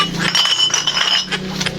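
Glass bottles in a sack clink and rattle against each other in a steady jumble throughout, fairly loud and close, with a person's voice faintly underneath.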